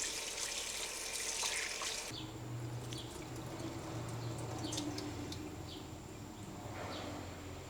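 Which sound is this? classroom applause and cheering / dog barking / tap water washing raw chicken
tap water washing raw chicken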